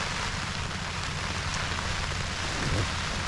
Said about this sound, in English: then rain came in about 5 o'clock and it's been on ever since.